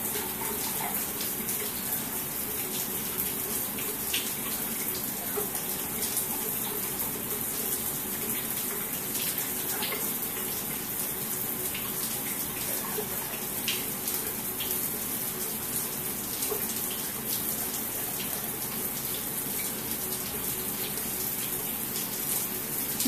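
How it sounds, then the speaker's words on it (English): Water from a shower sprays steadily into a tub or stall, a constant, close hiss with no break and no talking. "It's a pretty good shower, isn't it"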